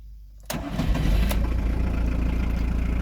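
A camper van's engine cranks and catches after sitting parked for several days, then settles into a steady, close, loud idle with no talk over it.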